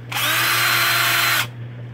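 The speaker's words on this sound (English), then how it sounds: "Power drill. Cordless, might I add. Ryobi lithium 12-volt battery." A cordless Ryobi 12-volt lithium power drill spins up sharply, whines steadily at close range for over a second, then cuts off, with a low electrical hum underneath and no talking.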